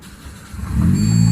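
A 2017 Toyota Corolla Altis engine starting with a push-start button, a short build from a quiet hum to a steady loud idle rumble, heard close up.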